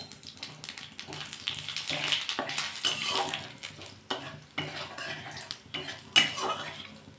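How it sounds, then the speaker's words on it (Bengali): Dried red chillies and black cumin seeds tempering in hot oil in a pan, with soft frying sizzle mixed with scraping stirring and clinks of a utensil against the pan, close and alone. "এই তেলের মধ্যে আমি একটু শুকনো লঙ্কা, একটু কালো জিরে ফোড়ন দিয়ে দিলাম।"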